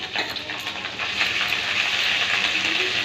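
Panch phoron, dried red chillies and ginger paste temper in hot oil in a wok, producing a steady, loud sizzling hiss throughout.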